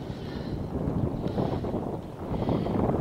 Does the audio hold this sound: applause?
no